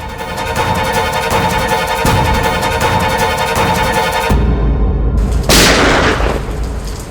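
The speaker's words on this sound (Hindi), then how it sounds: "ये तो पटाखों की आवाज नहीं लगती, ये कहीं गोली चली है।" Gunshots ring out during heavy rain, one sharp loud report standing out above a dense steady roar of rainfall and background music, with no voices.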